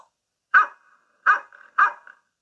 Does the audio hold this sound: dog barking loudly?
yes